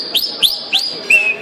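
A man whistles an imitation of a pássaro preto's song: four sharp, bright rising chirps in quick succession, the last one drawn out into a sustained note, close and clear.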